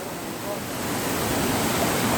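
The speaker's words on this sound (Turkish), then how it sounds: "Şu anda şelaleye geldik arkadaşlar." A waterfall reached on a nature hike gives off a steady, dense rushing roar that holds constant and slightly swells throughout.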